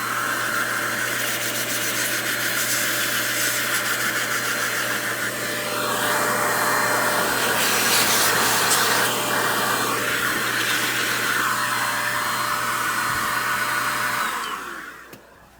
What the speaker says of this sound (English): So we're just going to hit it with some air.